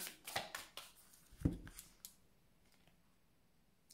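A deck of cards being cut by hand, heard as a few close, crisp riffling snaps and taps in a quick cluster that then fade to quiet, with no speech.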